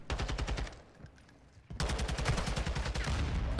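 Rapid automatic gunfire from Call of Duty Modern Warfare 2 ranked play, dense bursts of shots that pause briefly midway, then resume loud and continuous to the end, with no talk.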